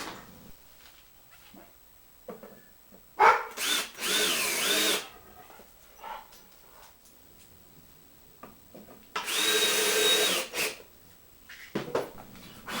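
Power drill driving screws to attach a flange to a blower motor in a homemade dust collector build, two long whirring bursts separated by pauses, with shorter tool clicks and handling noises between them, close and with no talk.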